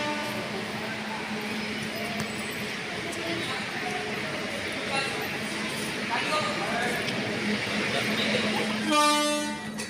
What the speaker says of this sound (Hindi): अभी आ गए हम रेलवे स्टेशन